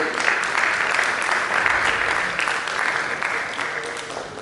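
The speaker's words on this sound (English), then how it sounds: "give a huge round of applause to yourselves" Audience applause at an annual gymkhana award ceremony, a loud, dense and steady wash of clapping from a large crowd that holds for several seconds with no talk over it.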